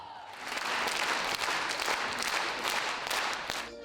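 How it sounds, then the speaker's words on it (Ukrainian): A packed hall bursts into a thunderous ovation for the Barvinok ensemble's Ukrainian folk dance concert in Vinnytsia: dense, sustained applause from a large crowd, loud and continuous throughout. "І після кожного номеру вибух овацій від глядачів."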